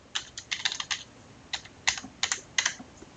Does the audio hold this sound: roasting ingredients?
no